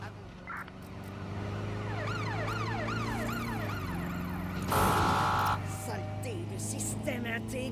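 An ambulance siren wails in the video game Watch Dogs Legion, a loud cycling up-and-down tone with a vehicle engine droning beneath, while voices speak over it.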